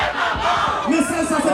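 A festival crowd at a kompa event in Paris chants "oulé" together in a dense, continuous roar of many voices, loud and unbroken for the whole moment.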